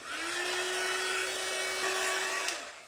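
A heat gun warming a painted oyster shell gives a steady, loud airy whoosh with a constant motor whine, running without a break for nearly three seconds before cutting off.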